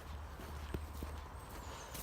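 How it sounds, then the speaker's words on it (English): A friendly one-eyed horse near a lake on a sunny April morning, its hooves clip-clopping faintly nearby as a few soft, spaced steps over a steady low outdoor rumble. "There is a horse near here as well."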